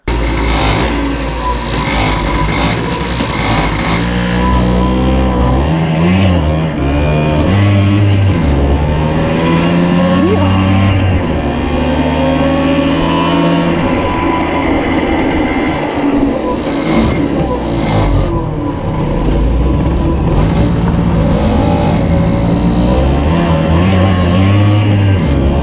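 A Flandria SP747 moped engine runs steadily while being ridden off, a loud, continuous motor drone with rising and falling revs close by; some voice sounds mix in.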